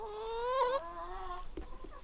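A backyard chicken gives a short, close, drawn-out clucking call followed by a couple of softer clucks, with no talking.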